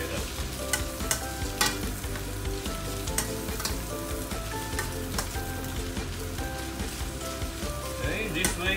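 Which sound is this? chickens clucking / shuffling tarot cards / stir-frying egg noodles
stir-frying egg noodles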